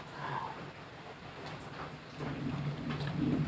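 Steady rain falls outdoors during a meal of banana blossom burger patties, a continuous soft broadband hiss of moderate level that thickens slightly toward the end, with no talk over it.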